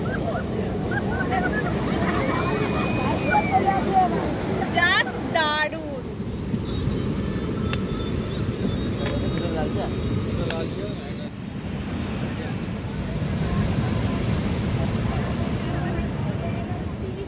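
Sea waves on Puri beach on a crowded morning, a steady rumbling wash of surf beneath a voice and the chatter of people nearby.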